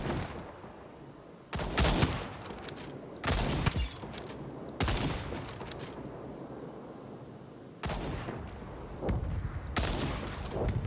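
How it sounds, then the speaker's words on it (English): Bursts of automatic gunfire in the Second Extinction video game as players shoot dinosaurs, several loud sustained volleys separated by short pauses over a steady background rumble. "Let's go shoot up some dinos."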